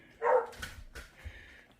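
A dog gives one short, sharp bark at a distance, followed by faint low rumbling and scattered noise.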